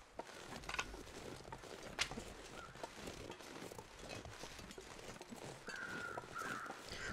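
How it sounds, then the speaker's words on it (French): Crows caw in the snowy wilderness of the survival game The Long Dark, circling over wolf carcasses in a foggy canyon; the calls are faint and scattered, set against a steady windy hiss with a few soft crunching steps. "Les corbeaux qu'on entend c'est sûrement au-dessus des deux cadavres."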